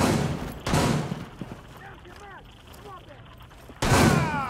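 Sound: turret firing from a video game

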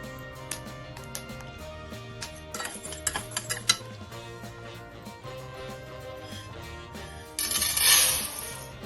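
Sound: horse gram popping while dry roasting in a pan

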